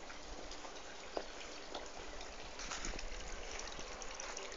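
A homemade garden fountain built from a bin lid, chicken wire and stone, fed by a small solar-powered pump, gives a soft continuous trickle and splash, faint and steady with an occasional drip.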